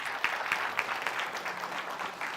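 An audience at a live RISC-V symposium claps briefly, a short burst of scattered hand claps in a hall.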